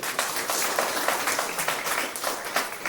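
Audience applause at a business seminar, a steady, moderately loud patter of many hands clapping together throughout, with no break and no voices heard over it.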